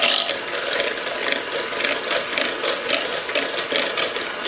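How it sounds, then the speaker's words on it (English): Egg and melted butter are mixed into banana bread batter, producing a fast, steady rhythmic whirring and clattering that continues without pause at close range. "I'm going to mix that in a little bit too."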